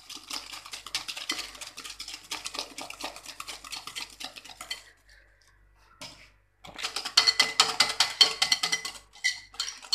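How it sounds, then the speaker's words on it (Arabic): Eggs and sugar being whisked in a bowl for a coconut basbousa batter: rapid, close scraping and clinking strokes. A short pause near the middle breaks them before the vigorous whisking resumes. "كنخدمو البيض مع السكر مزيان حتى كدوب لينا هاديك السنيدة."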